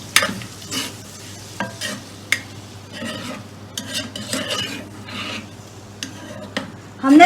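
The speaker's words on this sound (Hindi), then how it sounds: "अदरक लहसुन का पाउडर डाल के इसको हमने थोड़ा सा भून लेना है।" Ginger garlic powder sizzling and frying in a pan, with a spoon scraping and stirring in irregular strokes close by, and no talking.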